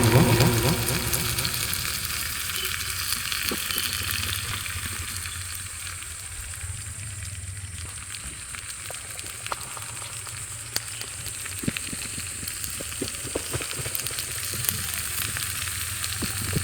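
Lentils (dal) sizzle and fry steadily in a tiny miniature pan over a flame, a dense continuous crackle with occasional sharper pops as they are stirred, close and moderately loud with no talking.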